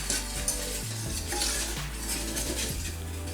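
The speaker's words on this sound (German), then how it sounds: "Wenn die Butter zerlaufen ist, gebe ich mein Mehl hinzu und mache eine Mehlspitze." A spoon stirs flour into melted butter in a pot to make a roux, giving a close, steady scraping and soft sizzling that continues for a few seconds with no voices.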